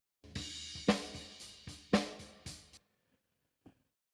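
Original snare drum sample with a thick, roomy tone, struck three times in a steady rhythm with long ringing decays, followed by a faint short tap after a pause.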